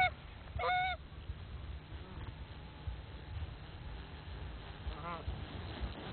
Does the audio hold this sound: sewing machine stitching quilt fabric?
no